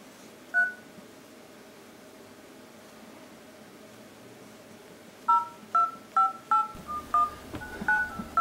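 A Mobistel Cynus T5 phone gives one short dialing tone, then after a pause a quick run of about eight touch-tone beeps, close and clear over a faint background hiss.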